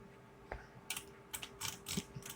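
Several quiet keyboard key presses from someone working in Blender 2.90, scattered clicks in an irregular rhythm with a short burst of taps near the end, close and soft.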